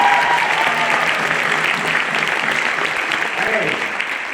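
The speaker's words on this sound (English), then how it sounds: "Give them a round of applause." Loud, close applause rolls through a crowd at a 2025 commencement ceremony, dense clapping that stays strong throughout and tapers slightly toward the end, with faint voices mixed in underneath.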